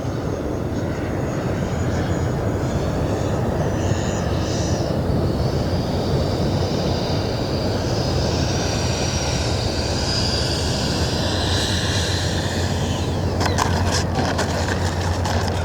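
A twin 64mm ducted-fan RC MiG-29 jet flies low in dim light, its steady, loud turbine-like whine and rushing air holding continuously throughout, with a brief crackle of bursts near the end.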